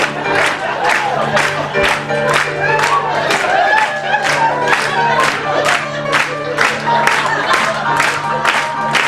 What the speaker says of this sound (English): I think you like to clap a lot